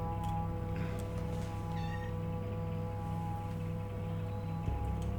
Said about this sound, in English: I hear Kiana meowing.